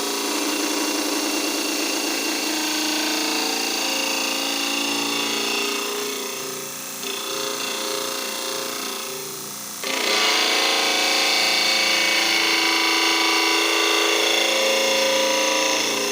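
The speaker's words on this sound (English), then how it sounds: "we can take it to the sander and see what it'll do" Power sander grinding steadily against a circuit-board crankbait bill, a loud, close, continuous rasp that dips briefly in the middle before surging back at full strength.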